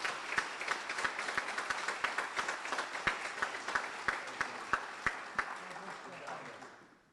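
Audience applauding at a Camp Lejeune military award dinner, a steady wash of many hands clapping with a few sharp louder claps on top, fading out at the end.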